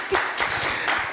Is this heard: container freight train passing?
no